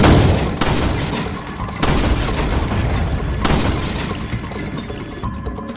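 Gunfire in the Resident Evil 4 game rings out as a few loud, booming shots spaced about every couple of seconds, each with a rumbling tail, with no talk.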